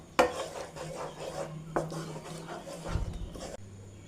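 Banana halwa paste being stirred in a pan with a spoon, a few scraping and clinking strokes against the metal, close and moderately quiet, with no talk.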